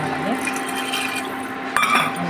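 Water poured into a pressure cooker holding cooking chicken, a short splashing fill with a brief clatter near the end.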